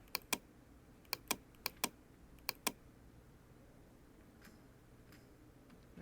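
A computer keyboard is being tapped, with the Alt key pressed while zooming in editing software: a handful of sharp, close, dry clicks in small clusters, then a few fainter taps against a quiet room.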